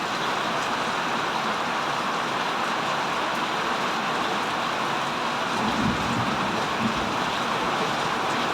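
Heavy rain pours down in a dense, steady hiss that fills the whole stretch, with a faint low rumble underneath. It is fairly loud and continuous, with no voices.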